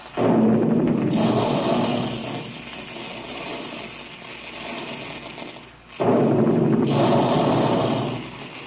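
Big guns firing as a sound effect in an old-time radio cereal ad: two loud, broad booming bursts with long rumbling decay, the second arriving after several seconds, heard alone on a band-limited recording.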